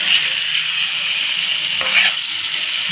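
Marinated chicken sautéing in a spiced masala, a steady loud sizzle with scraping stirs, one sharper scrape near the middle.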